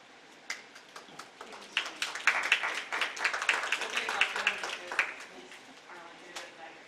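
Audience applause at a political forum at Hines Memorial: a burst of hand clapping that builds from scattered claps into a fuller round of applause before thinning out, with some background voices.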